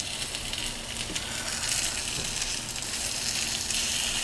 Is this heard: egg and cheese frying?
yes